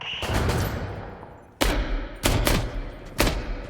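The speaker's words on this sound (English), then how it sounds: "I still can hear some shots" Heavy gunshots in a military shooter game, a long echoing blast followed by three sharp, loud reports spaced well apart, each trailing off in reverberation.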